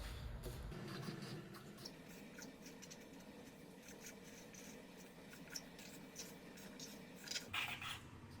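A pen or marker sketching a bunny outline on a surface, heard as close, quiet scratchy strokes and rubbing, irregular and continuous with short pauses between lines.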